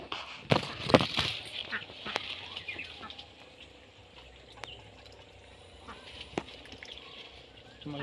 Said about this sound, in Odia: ଆଉ ବତକ ଦୁଇଟା ଅଛି